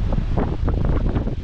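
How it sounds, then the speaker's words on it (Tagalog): Strong seaside wind, a loud steady rush with microphone buffeting and a faint wash of surf underneath for a brief moment. "Lakas ng hangin."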